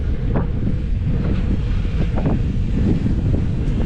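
Strong wind buffets the microphone in a constant low roar on a street in Poltava, with gusting rumble and no voices.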